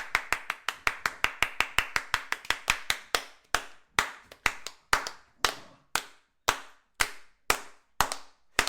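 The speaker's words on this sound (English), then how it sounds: "I'm clapping. Yes, indeed, I'm clapping." Sharp hand claps ring out alone, quick and evenly spaced at first, then slowing to a steady, deliberate beat with louder, more resonant hits.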